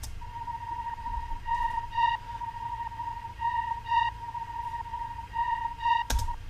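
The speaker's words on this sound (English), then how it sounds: "Like it almost sounds like it's side chained and reversed." A high, airy reversed sample with bright, boosted treble swells in and pulses in waves over a steady tone, with no talking.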